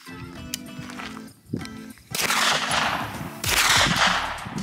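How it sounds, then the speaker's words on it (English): Shots from a Smith & Wesson FPC carbine fitted with a Holosun SCRS sight at an outdoor range, heard as a few sharp reports followed by long, loud, rumbling echoes that keep the sound dense. "So we're gonna keep taking more shots"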